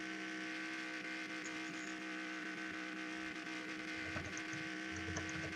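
Race car engine from the NR2003 racing game with a Trans-Am mod at the Daytona road course, a steady low droning drone held at low volume throughout with no speech over it.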